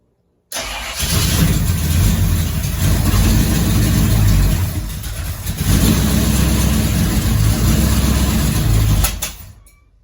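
A 383 stroker V8 in a 1972 Camaro cranks and fires, then runs loud and close with a rough, lumpy idle, dips briefly, picks up again with revs, and finally shuts off, with no one talking.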